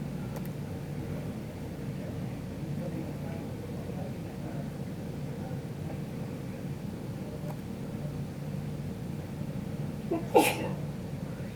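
One short, sharp sneeze comes near the end, heard over a steady low background hum.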